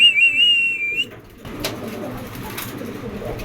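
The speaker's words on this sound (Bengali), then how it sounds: "আফসান গিজেল রেসার কবুতর" A racer pigeon coos close by for about a second, a soft warbling call. Quieter rustling and faint background noise follow.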